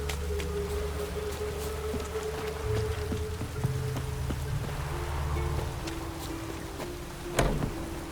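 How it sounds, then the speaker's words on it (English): Rain falls steadily in the video game The Witcher 3, a constant patter of drops under a faint tonal drone, with a sharper splash or impact near the end. "Rain doesn't bother you, it seems."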